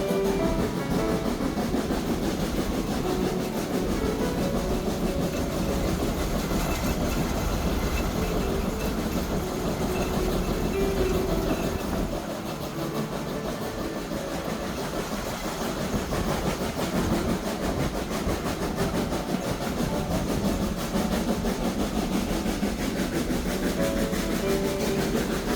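A train rides the Zig Zag Railway in the Blue Mountains, giving a continuous rumbling roll with engine drone and faint rhythmic rail clatter, heard steadily from on board for the whole stretch.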